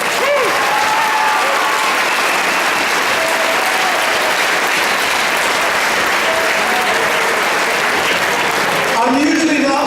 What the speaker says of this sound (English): Just give him a little applause there.